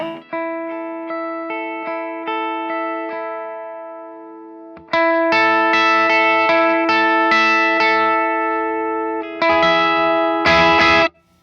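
A Telecaster electric guitar runs through Broadcast and fuzz pedals: clean sustained chords ring out and fade, then a dense, distorted fuzz section of strummed chords plays loudly, stopping briefly before a final burst.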